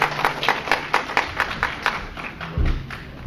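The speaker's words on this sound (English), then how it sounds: "When you applause, you are wasting the time of the speakers" An audience applauds at a debate on the priesthood, with a burst of fairly close clapping from a modest crowd that thins out over a few seconds before a low thump.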